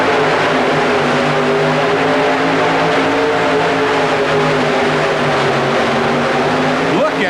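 A modified 4WD pulling truck named Tumbleweed roars at full throttle through an indoor pull at the St. Paul Civic Center, its engine a loud, steady, droning blare with shifting harmonics that holds for several seconds before a brief rising sweep near the end.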